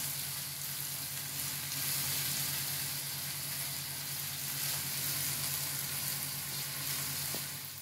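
Onions saute in a pan with a steady, close sizzle and hiss that runs unbroken throughout, over a faint low hum and with no talking.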